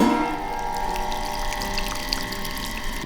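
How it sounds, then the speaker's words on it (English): Homebrew mash for a doppelbock lager recirculates through a pump with a steady trickling, pouring wash of liquid over a constant low motor hum, heard close and with no talking. "I got my mash in there recirculating."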